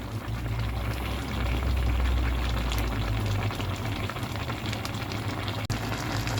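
Dinengdeng with squash flowers bubbling in a full pot, a steady close hiss and gurgle of boiling liquid throughout with one brief clink near the end.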